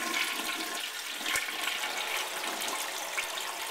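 An early-1990s Crane Radcliffe toilet flushes in one steady rushing wash of water that stays loud and close the whole way, with no talking over it.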